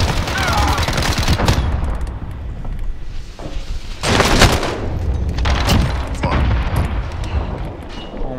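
Uzi submachine gun fire in a Call of Duty match: loud, rapid bursts and booming impacts arrive in several clusters across the stretch, with no clear talking.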